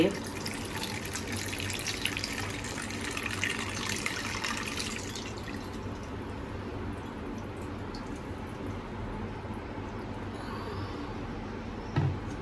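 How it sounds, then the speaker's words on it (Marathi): Water pours and trickles continuously at moderate distance, splashing steadily as liquid is drained off; a faint voice sits underneath. "आपल्याला हे पाणी गाळून घ्यायचं आहे"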